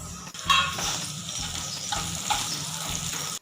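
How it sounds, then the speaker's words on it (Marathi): Onion frying in a pan with garlic and chili gives a steady close sizzle, with a few light clinks of a utensil against the pan as it is stirred. "आता कांदा टाकायचा ना? हो, आणि मस्त फ्राय करून घ्या."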